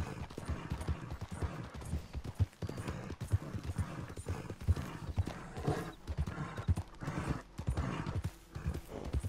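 Horse hooves clip-clopping at a steady walking rhythm in the video game Red Dead Redemption 2, moderately close, with faint background ambience and an occasional snort.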